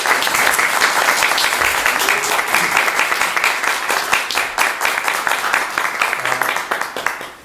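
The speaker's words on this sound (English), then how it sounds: "let's give a big round of applause." A concert audience at a Saturday evening series applauds loudly and continuously, close, crisp clapping that holds steady and then tapers off at the end.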